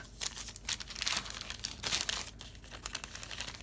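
Plastic packaging around a toy car being cut and torn open, giving a steady run of close crinkling and crackling with sharp tearing bursts and no voices.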